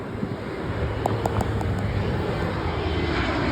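A JetBlue airliner passes near LAX by Aviation Boulevard, a steady broad roar with wind noise throughout and faint traffic signal chirps in the middle.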